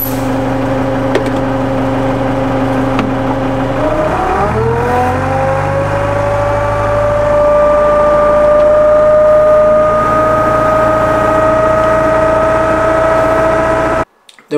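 Avro Vulcan XH558 bomber engines spooling up during a ground run, a loud rising whine that climbs steeply around four seconds, then holds as a sustained piercing howl over a deep roar before cutting off abruptly.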